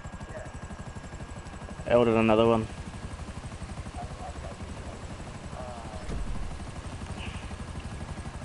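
Helicopter in flight, a steady rotor chop and engine drone running through the whole stretch, with people talking over it.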